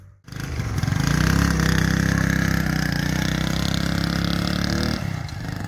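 A motorcycle loaded with freshly cut grass idles close by in a steady, loud, even drone that holds for several seconds before easing slightly near the end.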